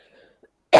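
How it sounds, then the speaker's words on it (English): One sharp, close cough bursts out loudly after near silence, following faint murmuring, during an online software quality assurance testing class. "not easy with this cough."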